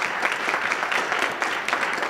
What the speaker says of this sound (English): applause to Mike.